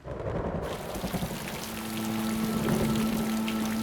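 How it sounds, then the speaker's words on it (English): Steady heavy rain pours down in Iceland on a boiling-hot day, a dense continuous hiss with a low rumble beneath it, loud and close throughout. "It's raining,"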